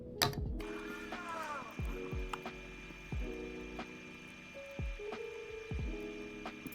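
Small hybrid fingerboard wheels are fitted and spun, making repeated light clicks and ratcheting rattles that trail off in short whirring decays, quiet and close.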